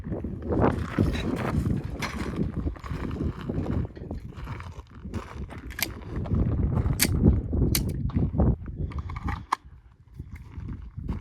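A Langdon Tactical Beretta 92G RDO pistol fires a string of rapid shots at a steel plate rack, each sharp crack spaced by brief pauses and followed by the ring of struck steel plates.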